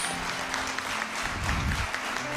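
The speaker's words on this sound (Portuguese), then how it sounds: "Vamos aplaudir a Jesus, amados." A church congregation applauds in praise, a dense, steady wash of many hands clapping that fills the room at moderate loudness, with no voices on top.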